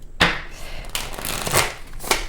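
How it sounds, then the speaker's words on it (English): A deck of tarot cards is shuffled by hand in several loud, close riffling bursts with brief pauses between them, and no one speaks. "let's see if these cards want to shuffle for me in the first place"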